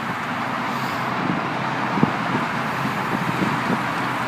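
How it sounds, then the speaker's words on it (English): Cars drive past on a road in a continuous broadband roar heard while walking nearby, with a fairly loud, even wash of traffic noise and one small thump partway through. "There are people driving."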